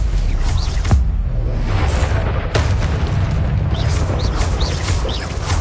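Confringo explosive spells go off in Hogwarts Legacy, loud, heavy booms with sharp blasts and whooshes over a dense rumbling game soundscape.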